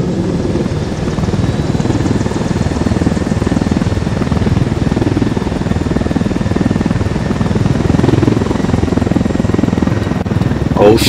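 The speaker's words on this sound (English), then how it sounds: "Helicopter, get down." A helicopter in the Ghost Recon Wildlands video game drones loudly and continuously with a dense rotor chop throughout.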